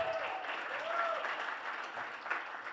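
A comedy club crowd at the Tempe Improv applauds steadily in a dense wash of clapping, with a few faint whoops cutting through the noise.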